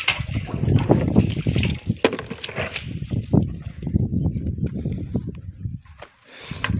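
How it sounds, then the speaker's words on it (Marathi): Water is pumped into a dug village well, a steady rushing, splashing gush of water that stays loud and continuous, with brief dips in force near the end. "हिरीला पाणी मारत आहे."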